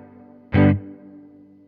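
A single short guitar note rings through a reverb effect on a Hothouse DaisySeed DSP pedal set to its dark position, sounding dark and muffled, then fades into a soft lingering tail.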